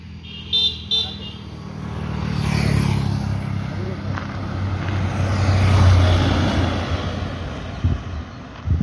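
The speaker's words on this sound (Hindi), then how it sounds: "गाड़ी आ रही है जा रही है।" Vehicles on a jungle road in Balaghat, with a loud engine swelling and fading twice as traffic passes nearby and a brief horn toot near the start.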